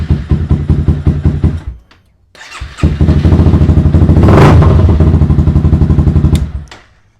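A Honda CBR250R motorcycle engine cranks briefly, pauses, then fires up and settles into a steady, loud, close idle with a rhythmic pulse before cutting off.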